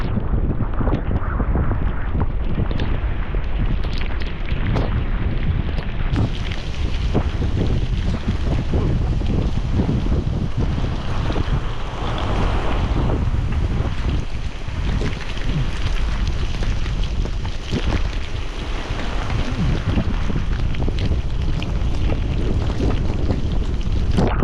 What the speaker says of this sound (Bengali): বৃষ্টির বড় বড় ফোঁটা পড়তেছে